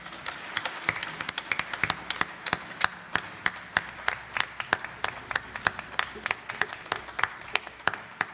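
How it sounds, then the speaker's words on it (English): A round of applause welcomes a gospel singer to the stage at a small concert; the claps are distinct and sharp, coming in a quick, uneven patter, with some voices murmuring underneath. "everybody give him a big round of applause."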